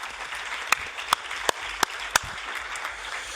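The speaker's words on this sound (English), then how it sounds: "A warm round of applause for the panel." Applause from a conference audience for a panel at an EU waste legislation event, broad and fairly steady, with a few sharp louder claps standing out and no speech over it.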